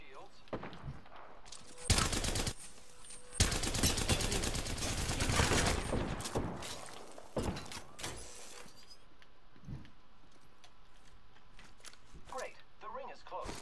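Battle royale video game gunfire, with rapid automatic bursts clustering loudly in the early seconds and then tapering into scattered single shots, with a player talking throughout.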